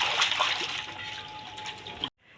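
Water splashes and sloshes as a young child bathes alone, a close, bright burst of churning spatter that cuts off abruptly near the end.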